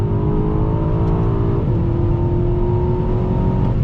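A 2021 Aston Martin DBX SUV engine revs hard and accelerates steadily, loud and close, with a rising drone; distinct exhaust pops are not clearly picked out.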